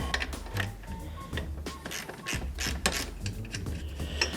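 A ratchet wrench breaks loose a nut on a Honda Shadow motorcycle's mono strut, giving close, quiet, repeated clicking with mechanical creaks throughout and no speech.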